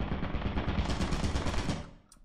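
A Lethal Company turret firing in a rapid, continuous stream of loud shots for about two seconds, then cutting off abruptly.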